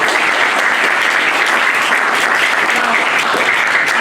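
Steady, close applause from a workshop audience at a fermentation event fills the full four seconds, an even wash of clapping hands with no pauses.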